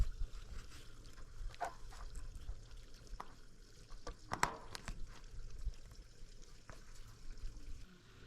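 Water runs by gravity through an adapted, non-standard hose in a greenhouse, making a faint, steady trickling rush with a few soft splashes, heard alone.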